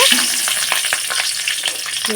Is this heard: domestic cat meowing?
no